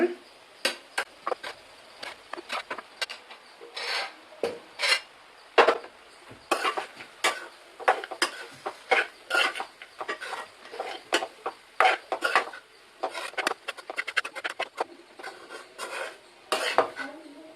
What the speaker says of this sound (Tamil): நம்ம இப்போ லெமன் ரைஸ் ஃபுல்லாகவே நல்லா கலக்கியாச்சு